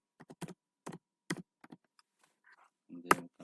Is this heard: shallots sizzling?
no